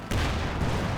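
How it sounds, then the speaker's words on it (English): An anti-tank rifle grenade strikes a Sherman tank in a World War II strategy video game, producing a single abrupt, heavy blast that starts with a sharp attack and carries a dense rumbling tail. "anti-tank rifle grenade. Managed to take it in the Sherman"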